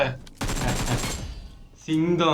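A close, loud burst of rapid gunfire from the video game PUBG lasts under a second, followed by a short pause and then a voice speaking.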